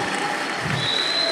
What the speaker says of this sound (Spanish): Vamos a darle un fuerte aplauso al pastor